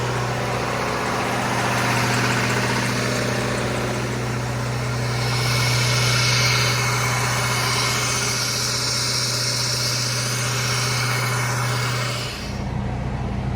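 A skoolie school bus engine idles after running for about an hour on a cold day: a steady, loud, low droning hum that holds for over twelve seconds before the tone shifts and drops near the end.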